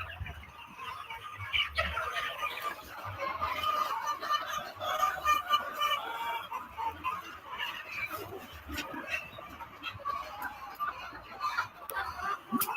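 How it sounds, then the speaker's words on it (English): A dense flock of chickens clucking and chattering continuously at a large poultry farm, with occasional rooster calls mixed into the steady din, fairly close and with no talk over it. "It's a big poultry farm."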